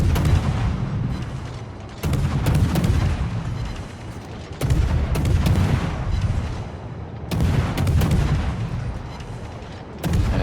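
Naval guns fire on the battleship Thunderer in World of Warships, heavy booming salvos arriving in three or four rolling bursts a couple of seconds apart, with a low rumble between them and no voices.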